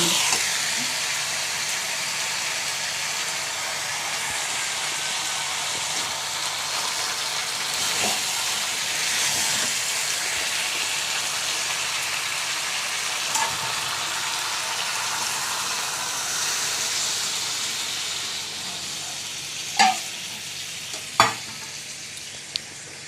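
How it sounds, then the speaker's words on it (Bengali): Curry sizzles steadily in a frying pan after water is poured in, a dense hiss with steam and a few sharp pops and clinks of a spoon against the pan near the end. "এবার জল দিয়ে দিই, কষালাম এতক্ষণ ধরে।"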